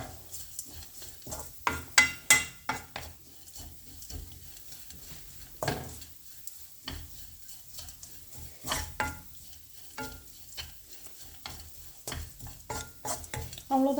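Grated coconut roasts in a pan with chilli, pepper, turmeric and cumin powders over low flame, a spoon scraping and stirring in irregular strokes over a faint, steady sizzle, close and fairly soft.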